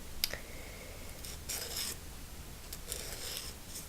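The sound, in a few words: nail file being rubbed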